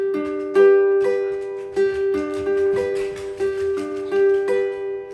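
A ukulele chord strummed slowly, over and over at an even, unhurried pace, each strum ringing out clearly and close.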